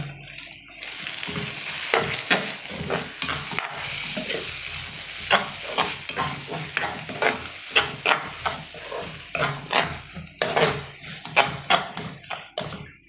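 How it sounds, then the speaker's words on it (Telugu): Eggs sizzle and fry in a pan with boiled macaroni while a utensil stirs and scrapes repeatedly. The rhythmic scraping and clatter sit close over a steady frying hiss, and nobody speaks. "ఇప్పుడు కొడుగుడ్లు కూడా వేస్తాను ఓకే చూడండి నాలుగు గుడ్లు వేసాను"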